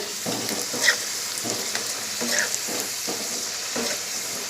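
Potatoes fry golden in a pan with onion and tomato, making a continuous close sizzle broken by soft, irregular stirring scrapes and light clinks.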